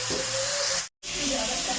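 Chicken frying in hot oil in a pan, with a steady loud sizzle and hiss that cuts out briefly midway, then resumes just as strongly.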